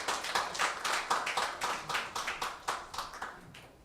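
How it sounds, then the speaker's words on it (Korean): An audience applauds a keynote speaker at the J-Connect Day 2018 conference in Jeju, with steady, moderately dense hand clapping heard from a little distance and no voices over it. "큰 박수 부탁드리겠습니다"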